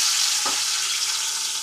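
Tomatoes dropped into hot oil for a biryani masala, giving a steady, close, loud hiss of frying with one brief soft knock near the start and no voices.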